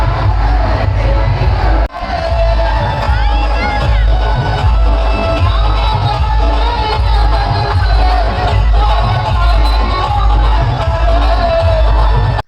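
A large, dense crowd fills a Bhim Jayanti street celebration around a DJ, with loud continuous babble, shouts and scattered whoops over a heavy booming bass beat, close and crowded throughout.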